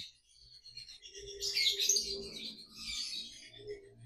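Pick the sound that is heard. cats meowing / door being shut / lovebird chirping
lovebird chirping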